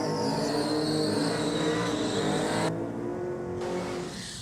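Drag racing at a night event in Sydney, nitrous versus supercharged cars including a red Commodore, engines roaring loud and steady at full throttle with a rising whine as they run down the strip.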